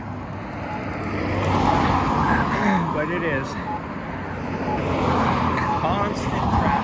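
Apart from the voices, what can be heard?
road traffic passing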